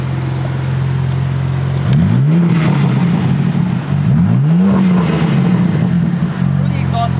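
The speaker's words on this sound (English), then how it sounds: "Check this exhaust out." A 2024 BMW M3 CS idles nearby, then its exhaust revs up twice in quick sweeping surges, each rising and falling back before settling to idle.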